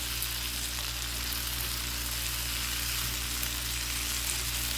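Onion fries in a pan with a steady, even sizzle at close range, accompanied by a constant low hum underneath and no talking.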